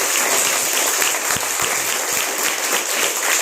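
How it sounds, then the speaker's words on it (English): A large audience at a 2022 National Science Day programme gives sustained, dense applause that stays loud and steady throughout without pause. "please give them a big round of applause"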